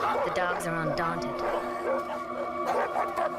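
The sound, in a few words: dogs barking at a cobra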